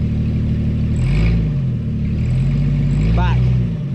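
A Jeep XJ idles and revs as it backs down over rocks at Little Moab, Utah, its steady engine rumble swelling in two low surges. The engine runs throughout and a person talks over it.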